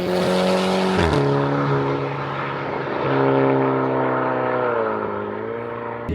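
A stage 2 VW Golf GTI accelerating hard, loud and close, its engine note climbing through the revs with sharp pitch drops at gear changes, then pulling steadily on with no talking.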